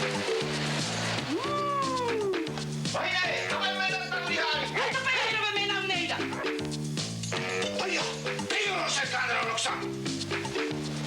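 Meowing, strongly suggestive of a cat, with a rising-and-falling cry heard over a rhythmic musical backing and voice-like sounds throughout, loud and close.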